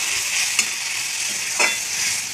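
Curry mixture with coriander powder and a splash of water frying in a pan, a steady broadband sizzle with a couple of sharp spoon scrapes against the pan, close and continuous with no talk.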